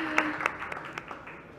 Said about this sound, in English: Now we can give him a proper applause.